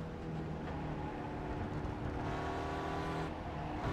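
Race car in the iRacing sim at Donington, its engine droning steadily and loud throughout with a sustained harmonic whine as it accelerates, no talk over it.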